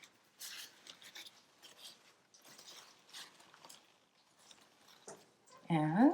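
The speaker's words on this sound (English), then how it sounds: "We'll unwrap it." A tie-dyed egg being unwrapped after its rubber band is cut: faint, intermittent rustling and crinkling in short bursts, ending with a louder close sound.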